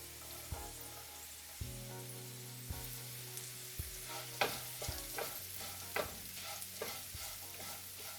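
Diced potatoes and chopped onion sizzling in a pan for a potato omelet, with a spatula scraping and stirring in repeated strokes over a steady frying hiss.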